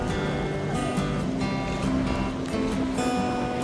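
An Ocean Jet ferry sits on clear water at the Port of Siquijor, with steady water wash and low engine hum forming a constant near backdrop, plus faint tonal hums throughout and no talking.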